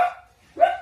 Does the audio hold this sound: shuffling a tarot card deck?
no